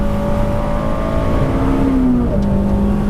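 A Civic Si race car engine drones loudly and steadily on a race track, its pitch shifting slightly as it holds speed on a cold out lap, with no voices.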